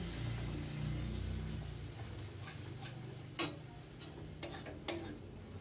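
Tomato goes into a pan with cashew, green chilli and ginger paste and is stirred, a soft steady sizzle broken by a few sharp scrapes and taps of a spoon near the end.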